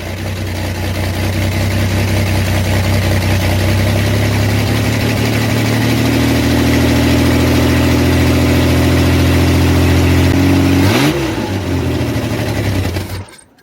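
A Ford Bronco II engine catches and idles loudly and close up with a steady low rumble for several seconds, then its pitch wavers as the idle shifts, and it cuts off near the end.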